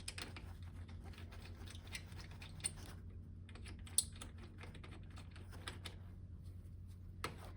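Bolts are threaded back into a round frame clamp with inserts and grooved metal sides: quiet, sparse metallic clicks and ticks over a faint steady hum.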